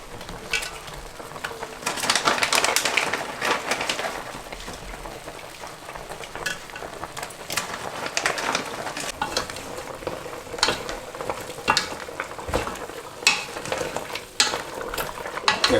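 Egusi soup with stockfish and catfish is stirred in a pot, a spoon scraping and sloshing through the thick mixture in irregular strokes over a low bubbling simmer, close by and without talk.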